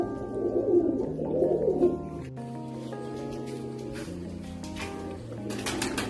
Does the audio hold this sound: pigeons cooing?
yes